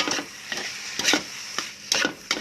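Fried rice with tamarind chili paste being stirred in a pan, a soft background sizzle broken by about six distinct scraping spatula strokes in an uneven rhythm, close and without talk.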